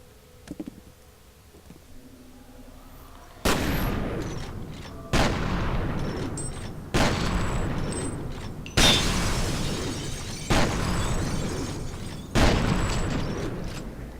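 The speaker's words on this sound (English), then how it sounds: "the shotgun is so nice against those guys" Shotgun blasts in the first-person shooter F.E.A.R., with six heavy booming shots spaced a second or two apart, each leaving a long reverberant tail, after a quiet opening.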